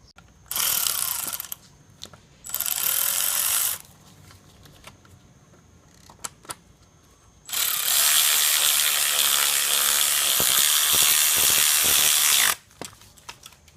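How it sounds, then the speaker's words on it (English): A ratchet tightens the mounting bolts on the charge pipe of a 2008 VW Audi 2.0T TSI engine, with three loud bursts of rapid clicking, two short and one long, separated by quiet pauses. "bolt these mounting bolts up, and your charge pipe is in place"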